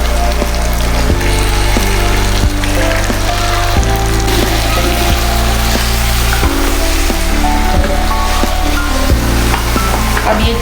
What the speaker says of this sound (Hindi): अब मैं इसके अंदर चिकन डालती हूँ।